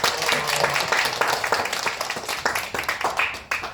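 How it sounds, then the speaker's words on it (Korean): An audience at a lecture gives a burst of applause to welcome the speaker, with dense, steady clapping that fades slightly toward the end. "뜨거운 박수로 환영해 바랍니다."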